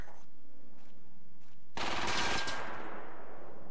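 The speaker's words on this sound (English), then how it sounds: "The phantom machine gunner." Machine gun fire in a WWII video game, a single loud close burst lasting under a second that rings out into a decaying tail after a quieter stretch of soft background noise.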